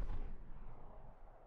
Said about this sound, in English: Just like an explosion in the distance.